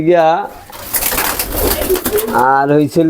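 Pigeons coo on a pigeon farm, with rhythmic throaty calls opening and closing the stretch and a noisier, rustling middle section; close and fairly loud.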